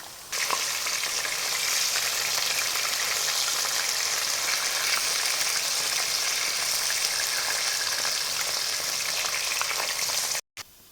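Potatoes frying in hot oil in a pan, a steady loud crackling sizzle that runs unbroken, close up, with no voices.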